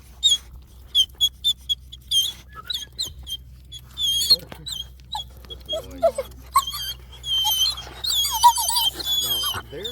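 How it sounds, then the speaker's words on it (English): Eleven-month-old fluffy canines with big paws whimper and squeak in rapid high bursts, then break into wavering attempts at howling, close and fairly loud over a low steady hum. "they're younger, they're still learning how to howl"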